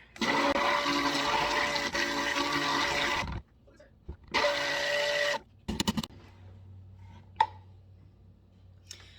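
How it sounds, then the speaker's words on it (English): An electric stick blender mixing soap-making oils whirs loudly in two bursts of a few seconds each, with clicks and quiet pauses between, close up. "I like using my stick blender when I have whites, and I blend it up directly in the oils"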